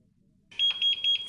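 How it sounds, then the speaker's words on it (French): A Rio laser epilator sounds its error signal: after a short silence, a run of quick, sharp, high electronic beeps rings out close and clear. "l'appareil émet un double bip pour indiquer une erreur"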